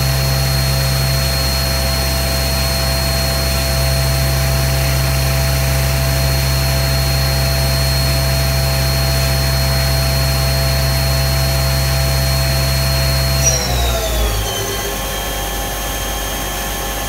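A Cincinnati Falcon 200 turret lathe runs steadily at 4000 RPM, a loud continuous mechanical whine and hum with strong tonal drone that holds evenly, then winds down as the spindle slows near the end.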